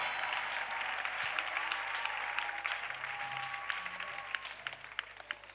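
A church congregation applauds throughout a deliverance service, with steady dense clapping and cheering that holds at a loud level and thins slightly toward the end.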